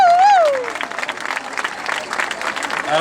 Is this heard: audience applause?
yes